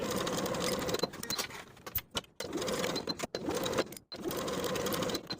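Sewing machine basting pockets onto the sides of high-waisted A-line shorts, a close, steady whirring stitch run in several bursts broken by brief stops, with no talking.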